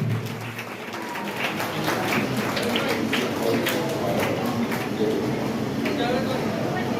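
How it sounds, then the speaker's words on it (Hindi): Audience applause welcoming a guest to the stage at a Tavaqqu Qureshi Foundation felicitation program, a steady wash of many hands clapping that swells and continues. "मैं आप सबसे गुजारिश करता हूँ कि तालियों से उनका वेलकम करें"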